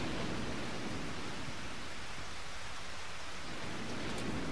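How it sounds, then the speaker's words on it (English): Thunderstorm in the video game Eternal Sonata: dense, steady rain hiss with low rumbling thunder rolling underneath, constant and fairly loud throughout. "It's starting to thunder now, too."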